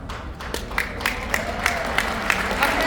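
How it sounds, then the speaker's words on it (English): An audience claps steadily in a room at a motivational talk, a sustained patter of applause with rhythmic sharper claps under a faint voice. "It's okay, they're clapping for you"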